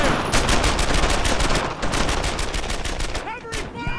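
Rapid WWII machine-gun and rifle fire from Brothers in Arms: Earned in Blood, loud continuous bursts of close shots that taper off, with a shouted voice near the end.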